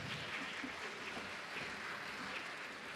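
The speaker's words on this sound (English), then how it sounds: "Let's give them all a round of applause." Audience applause at a Philippine Space Week event, soft and fairly distant, a continuous patter of clapping throughout the brief moment.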